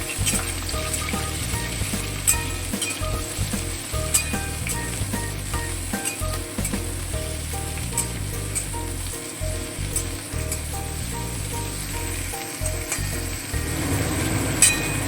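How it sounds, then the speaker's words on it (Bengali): Pointed gourd pieces and potatoes frying in oil for a mixed jackfruit-seed vegetable curry, a continuous crackling sizzle with occasional clinks and stirring, close and steady throughout with no talking. "পটলগুলোও আলুর সঙ্গে খুব ভালোভাবে তেলের মধ্যে ভেজে নেব"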